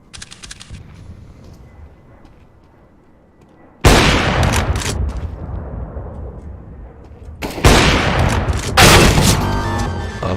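Grenade blast and bursts of gunfire in Counter-Strike: Global Offensive, with a quieter stretch of clicks and rumble followed by two loud, sharp onsets of explosive noise and rapid shots.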